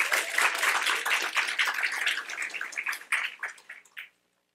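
Audience at a technical conference session applauds a presenter as he is introduced, with steady clapping from a room full of people that thins out and stops abruptly.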